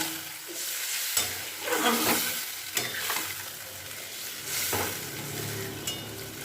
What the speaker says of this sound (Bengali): এবার আমি কিছুটা সিদ্ধ হওয়ার মতো একটু জল দিচ্ছি মিক্সির ছোটো বাটির এক বাটি জল দিয়ে দিলাম আমি